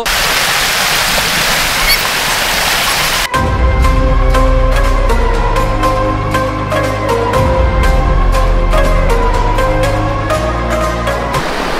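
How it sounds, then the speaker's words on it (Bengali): A flowing stream in Sylhet rushes loudly as continuous broadband noise for about three seconds before music abruptly takes over. "আপনারা হয়তো শুনতে পাচ্ছেন ব্যাকগ্রাউন্ডে সেই পানির শব্দ।"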